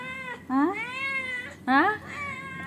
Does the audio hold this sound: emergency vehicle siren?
no